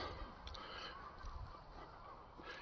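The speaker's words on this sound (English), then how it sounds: "to the sound of a lot of seagulls this morning" Seagulls honk and call faintly in the distance on an early morning in Edinburgh near Arthur's Seat, a few scattered cries over a steady low outdoor rumble.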